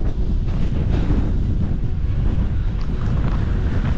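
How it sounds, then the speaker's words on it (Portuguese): Strong wind buffets the microphone at a petrified forest park, a loud, continuous low roar that rumbles without pause for the whole stretch. "Tá ventando muito aqui,"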